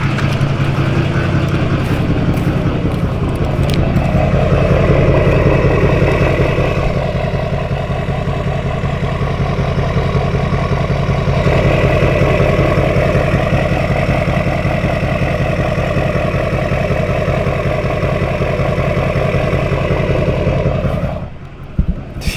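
A diesel truck engine idles close by with a deep, steady rumble that runs unbroken for about twenty seconds before abruptly cutting off.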